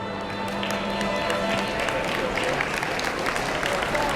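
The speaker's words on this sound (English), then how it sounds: "Nice round of applause." Applause from a square dance crowd after a caller cues a waltz and two-step, a dense steady patter of many hands clapping at moderate distance, with murmured voices mixed in throughout.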